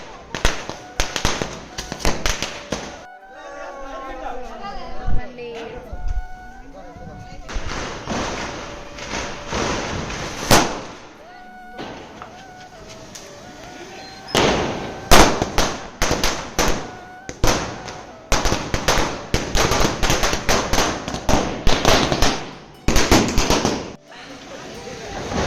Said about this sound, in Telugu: ఇక్కడైతే లక్ష్మీ బాంబ్ లక్ష్మీ బాంబ్ వెలిగిస్తున్నారు.